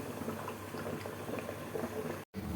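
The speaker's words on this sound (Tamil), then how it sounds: "தண்ணி கொதிச்சிடுச்சு" Water boiling at a steady, bubbling roll in a pot set up for steaming idli, close by and moderately loud with no voices, cut by a brief dropout near the end.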